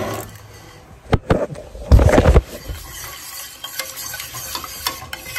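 A whisk stirs cold milk into a hot roux in a pan for cauliflower au gratin, with a few sharp clinks of metal on the pan and a burst of splashing, stirring noise midway before settling to quieter scraping.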